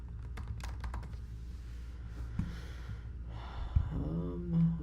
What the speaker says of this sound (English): Let's type in marketing.